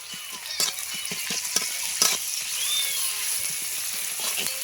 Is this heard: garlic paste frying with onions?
yes